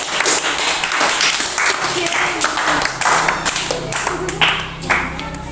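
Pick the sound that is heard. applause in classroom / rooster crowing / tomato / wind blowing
applause in classroom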